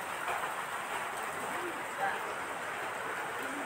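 Heavy, steady rainfall during flooding, a dense continuous hiss that stays even throughout with no voices.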